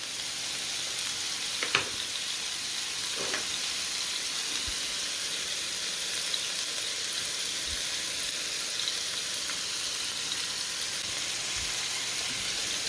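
Sausage and sauerkraut frying in a pan, a steady close sizzle with faint hiss, broken by a couple of soft clicks or clinks and no one speaking.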